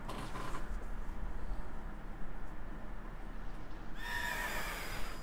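Horse neigh from the video game Pokemon Crown Tundra, a fairly loud whinny rising near the end over a steady low game background hum, with no talking.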